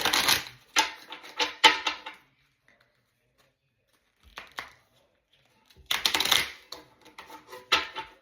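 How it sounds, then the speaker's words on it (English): Bursts of stiff, hard-to-shuffle playing cards being riffled and shuffled against a table, several crisp rattling flurries separated by quiet pauses. "We're going to shuffle them again."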